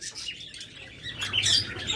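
Young budgerigar and lovebird chicks kept as pet birds, chirping and squeaking in a busy overlapping chorus close by, rising a little louder toward the end, with no talking.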